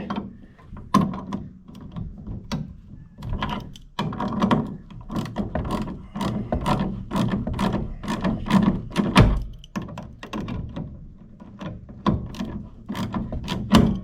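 A socket wrench ratchets in quick bursts of crisp clicks, close and fairly loud, with short pauses between runs, while working on the fuel tank of a John Deere compact tractor.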